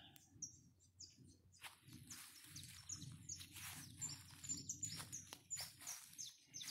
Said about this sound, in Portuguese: Um monte de pássaros cantando.